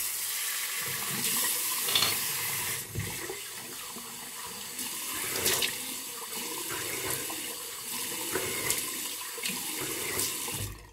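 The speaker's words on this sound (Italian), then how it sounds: "sciacquiamo con l'acqua fredda" Cold tap water runs steadily into a sink for rinsing after a shave, with splashing and hands moving through the stream, close by, with no talking.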